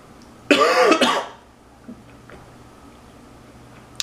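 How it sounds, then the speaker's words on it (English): A single harsh cough with a throat-clearing rasp during a mukbang eating show of Flaming Hot Cheetos and taquitos, close to the mic and lasting under a second, followed by quiet with a few small clicks. "I thought I was gonna burp and not cough, but I guess all I have in me is to cough."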